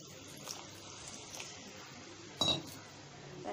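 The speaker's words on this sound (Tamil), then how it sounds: "தண்ணி ஆட் பண்ணி நல்லா மிக்ஸ் பண்ணி விட்டுக்கோங்க." Water added to an egg kheema masala in a cooking pan and stirred: quiet sloshing and scraping with one sharper metallic clink of a spoon against the pan midway, no voices.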